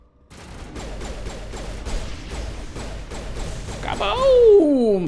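In the Mass Effect video game, a highly volatile barrel explodes amid rapid gunfire. Quick repeated shots lead into a louder blast, and a voice speaks over the noise.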